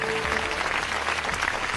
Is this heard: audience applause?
yes